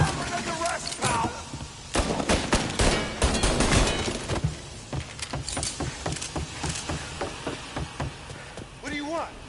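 Tommy gun fire in Mafia: The Definitive Edition, loud rapid bursts and scattered single shots crackling through a gunfight, with game voices shouting over the shooting.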